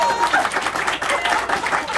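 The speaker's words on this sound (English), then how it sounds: "give her a big round of applause, everybody." Lively applause from a magic show audience at a festival, a close, fluctuating patter of many hands with some crowd voices mixed in.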